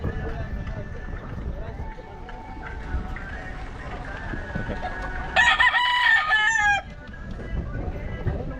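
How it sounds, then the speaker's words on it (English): Chickens and a rooster in the animal section of a large flea market; a loud crow rings out midway over constant crowd chatter and nearby talking, with clucking in the background. "I can hear the chickens."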